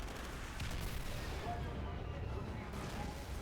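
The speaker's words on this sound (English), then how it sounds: "Does the rocket launch? And it does!" A rocket launches on a Call of Duty Ghosts DLC multiplayer map, giving a steady, dense roar of rumbling, explosive game noise that fills the whole stretch at an even, fairly loud level.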